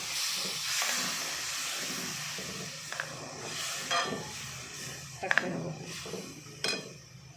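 Water poured into hot masala for a Maharashtrian dubuk vada curry hisses and sizzles in a pan, a steady steamy crackle with a few sharp clinks of utensils against the pot.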